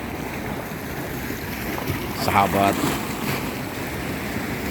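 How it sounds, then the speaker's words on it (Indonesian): Ocean waves wash and ripple along Muarareja beach in Tegal, a steady broadband surge with wind noise, cresting briefly louder near the middle as a wave breaks close by, with a voice speaking briefly. "sekedar ingin tahu alunan gelombang dan percikan riak-riak ombak ini"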